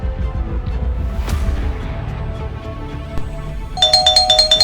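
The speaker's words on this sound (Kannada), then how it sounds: "ಡೋರ್ ಬೆಲ್ ರಿಂಗ್ ಆಗ್ತಾ ಇದೆ" Near the end, a doorbell chimes in a quick repeating electronic pattern, loud and close, following a quiet, tense stretch of low ambient sound.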